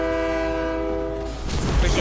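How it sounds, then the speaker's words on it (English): A train sounding its horn as it passes in the video game Fortnite, with a loud sustained horn blast that gives way to rumbling, clattering rail noise close by. "A train? What can we do with the train? There's a train?"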